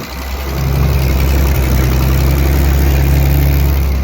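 A 1973 Ford Maverick engine with a bad exhaust leak idles steadily with a loud, rough, puffing exhaust note, a constant low rumble throughout and no talking.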